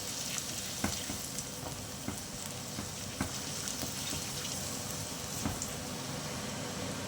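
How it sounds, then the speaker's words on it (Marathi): Asafoetida, cumin and mustard seeds with ginger sautéing in a hot pan for stuffed brinjal, giving a steady low sizzle throughout with occasional soft pops and stirring clicks, fairly quiet and without talk. "हे छान परतून घेऊया हे पहा हिंग आणि जिरा मोहरी आपण अगोदरच घातलेला आहे"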